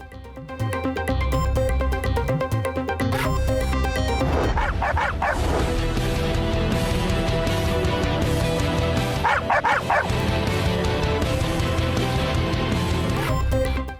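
Stray dogs bark and yip repeatedly in loud, overlapping bursts, with whimpers mixed in, sustained throughout without speech.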